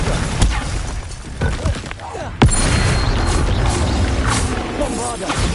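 A Bombarda spell bursts in Hogwarts Legacy with one sharp, loud blast midway, then a sustained rumbling roar under busy combat noise and a voice.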